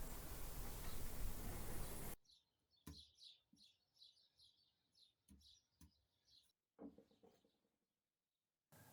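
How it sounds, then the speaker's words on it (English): Outdoors in sunshine, sparrows tweet in short, faint, scattered chirps after an opening burst of loud broadband noise, the calls spaced irregularly with quiet gaps between them. "hearing the sparrows tweeting away"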